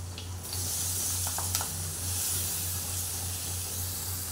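Green chilli, curry leaves and onion dropped into hot oil in a pan, giving a steady close hissing sizzle that runs throughout with a few faint clinks.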